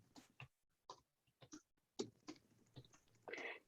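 A computer keyboard is typed on quietly in short, sparse bursts of clicking keys with pauses between them, close but faint, and no one speaking.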